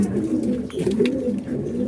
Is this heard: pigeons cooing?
yes